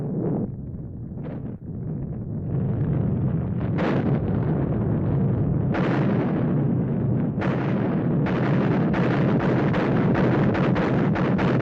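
A massive World War II artillery barrage of thousands of guns before dawn, heard as a dense rolling roar of cannon fire with sharp, loud blasts punching through the din, increasingly rapid and overlapping toward the end.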